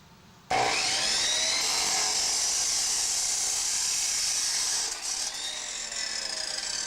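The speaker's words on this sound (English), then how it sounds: "I already have the other end in the vise, so we'll make a cut to clean that end up." A power saw cuts through a pipe clamped in a vise, starting abruptly and then running as a steady, loud, high whine that dips slightly near the end.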